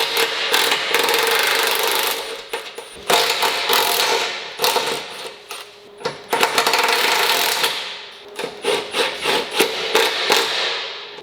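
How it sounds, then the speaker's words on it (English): Self-threading bolts being backed out of the side of a truck frame to remove a decorative side plate while fitting bolt-on traction bars; close, busy ratcheting and clanking metal mechanism sounds in repeated bursts, with no talking. "you'll want to go ahead and take the self-threading bolts out of the side."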